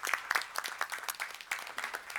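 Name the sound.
round of applause at a school board meeting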